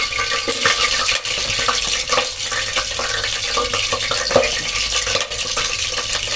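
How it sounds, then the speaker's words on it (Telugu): Garlic frying in a pan for a cashew curry, a steady broadband crackle with scraping stir strokes throughout, close and fairly loud, no talking. "ప్రస్తుతానికి నేను ముందుగా వెల్లుల్లి వేస్తున్నాను"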